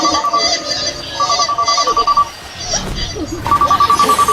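A telephone rings in bursts of repeated electronic trills, three separate rings with pauses between them, fairly loud over a low rumbling background, with no one speaking.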